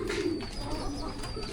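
Pigeons of a white Vandenbroek Taiwan breeding line coo in a low, soft, continuous murmur from a breeder's loft, close by and steady, with a faint higher tone running through the background.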